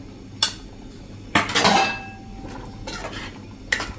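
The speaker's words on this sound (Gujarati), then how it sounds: "અને હવે આને આપણે મિક્સ કરી લેશું." A metal spoon stirs spices into a Gujarati chickpea curry in a pot, producing a few close scraping clinks and knocks against the vessel with pauses between strokes.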